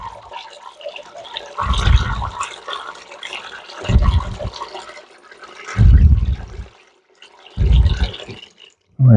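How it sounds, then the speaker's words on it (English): Melted beeswax being poured during wax rendering, a liquid splashing and trickling in four separate pours of roughly a second each, loud and close, with quieter gaps between. "I'm pouring the wax down to this level"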